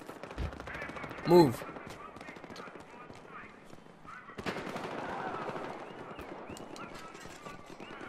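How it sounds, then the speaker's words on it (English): Bursts of gunfire in Battlefield Hardline multiplayer on PS4 crackle in the background beneath steady talking, with one louder shot standing out early on. "I hear so many gunshots"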